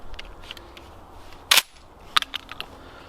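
A Black Aces Tactical shotgun with an 18-inch self-defense barrel is fired once, giving a sharp loud blast followed by a few fainter clicks and knocks.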